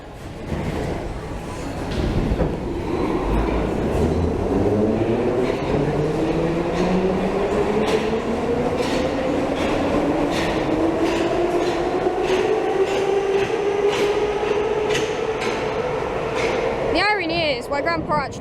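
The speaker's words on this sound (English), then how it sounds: "we're going to change to our slightly more modern 4 and 6 tram" A Budapest tram, the more modern line 4 and 6 type, rolls along loudly and steadily, its motor tone rising in pitch as it speeds up, with wheel clatter and a brief squeal near the end.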